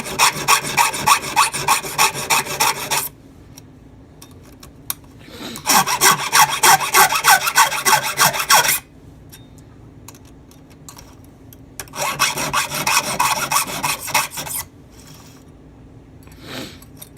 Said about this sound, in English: The little raker comes through the little window and I just file it off.